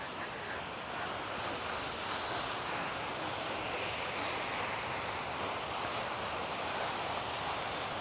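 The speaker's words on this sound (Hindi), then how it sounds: "वाकई बड़े प्रेशर से पानी आ रहा है" The Aira Force waterfall roars with a dense, steady rush of falling water, loud and unbroken for the whole stretch, with no voices over it.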